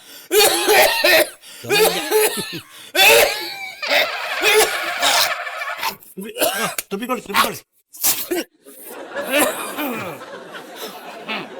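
An elderly man coughs repeatedly in a comedy sketch, harsh loud bursts mixed with laughter and chatter from several people talking close by.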